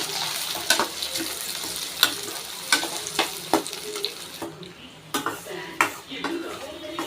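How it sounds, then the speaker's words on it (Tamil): Chopped onion fries in a pan while a metal spoon stirs and scrapes it, giving sharp irregular clinks and knocks over a low steady sizzle, close and fairly quiet. "ஆனியன் நல்லா வெந்துட்டுருக்கு நல்லா பொறிஞ்சிட்ருக்கா"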